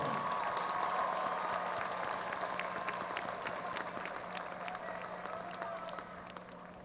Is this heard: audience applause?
yes